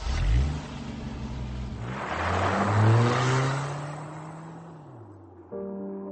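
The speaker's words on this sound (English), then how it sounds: "Soon, even the noise of the jeep is gone." A jeep engine revs and pulls away over sand, its tone rising and then falling as it fades into the distance before a faint hum remains.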